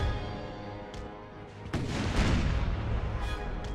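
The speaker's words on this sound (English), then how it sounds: "Broadside, fire" Ship broadside cannon fire in Empire: Total War, naval combat where a low background swells into a heavy rolling boom of several cannon shots about halfway through, then sustains as a loud rumbling barrage.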